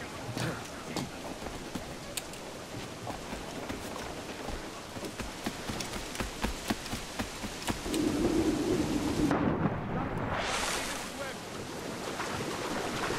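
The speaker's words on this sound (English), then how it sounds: "Oh no, not a storm." A thunderstorm at sea in the pirate-era game Assassin's Creed IV: Black Flag, with steady heavy rain and crashing waves, scattered thunder cracks, and a louder surge of wind and water near the end.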